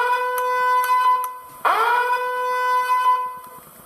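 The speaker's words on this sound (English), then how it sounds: "I always turn the volume down a little bit because the alarm is just loud" A loud, steady electronic alarm blares in the horror video game Five Nights With Mac Tonight 2, holding a sustained tonal drone that dips briefly before a sharp renewed burst and continues.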